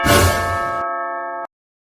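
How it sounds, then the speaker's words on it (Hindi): A bell struck loudly once with a sharp clanging attack, its bright metallic tone ringing out for over a second before being cut off abruptly, alone with no voices. "कितना घंटी बजाएगा?"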